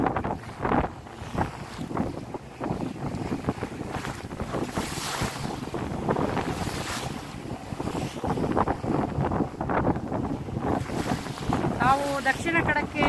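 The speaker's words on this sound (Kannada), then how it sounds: "ನಾನು ಗಣೇಶ್ ಕಾರ್ವಿ ಮತ್ತೆ ತಂಡದ ಜೊತೆಗೆ ಸಮುದ್ರದಲ್ಲಿ ಪ್ರಯಾಣ ಮಾಡ್ತಾ ಇದ್ದೀನಿ ಕೊಡೇರಿ ಹಾರ್ಬರ್ ಇಂದ." A boat heads out to sea from Kodery fishing harbour, its steady engine and water rush under heavy, continuous wind buffeting the microphone, with waves slapping throughout.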